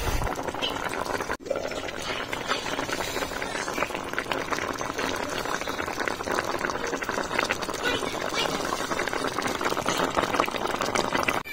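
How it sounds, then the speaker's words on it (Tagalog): Pork and frozen broccoli simmering in a covered pot, a steady broadband bubbling hiss that runs throughout with a brief dip near the start, with a voice speaking over it. "Ayan, kumukulo na siya."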